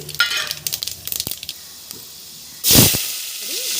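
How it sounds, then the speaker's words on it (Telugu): Mustard, cumin and fenugreek seeds hit hot oil with a loud sudden hiss and sizzle for an Andhra prawn and okra tamarind stew, following some faint scattered taps and clinks beforehand. "ఇప్పుడు మనకి ఆయిల్ బాగా హీట్ అయింది ఇందులో ఆవాలు జీలకర్ర మెంతులు వేసుకోండి"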